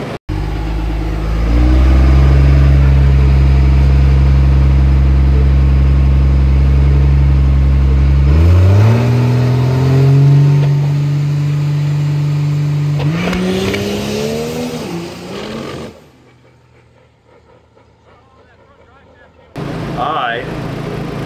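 Diesel truck at a diesel drag racing shootout launching hard, its engine roaring loud and close and climbing through several rising gear pulls, with a faint tire squeal, before cutting off abruptly into near silence and a brief return of noise at the end.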